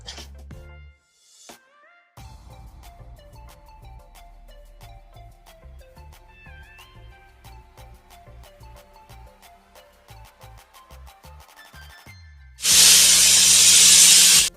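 A pressure cooker lets out a loud, sustained hiss of steam, bursting in suddenly at the end after a long stretch of soft background music.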